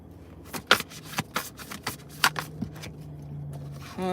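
Tarot reading cards being shuffled in a quiet room, a run of crisp riffling flicks and soft slaps repeating irregularly for several seconds, close and clear with no talking.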